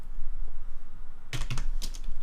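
A quick burst of a few computer keyboard keystrokes, close and clear, typing a search term in Blender over a faint room hum.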